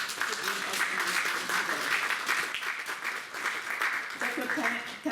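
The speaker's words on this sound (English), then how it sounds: "I think you really deserve a round of applause." A crowd applauds after a speech at a talent event, a full, sustained round of clapping with faint chuckles and murmurs mixed into the ovation.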